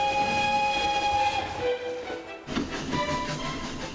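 A model train built from junk mail, replicating a 1930s locomotive, rumbles along as it gathers speed, with steady tonal hums and a whistle-like drone, the sound shifting partway through as it moves, with faint clattering.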